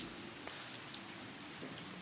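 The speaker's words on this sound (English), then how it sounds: "As you can hear, by the time we arrived at this lakeside park, the rain had begun." Steady rain patters on surfaces at a lakeside park, a dense hiss of drops with occasional louder splashes, continuous and fairly close.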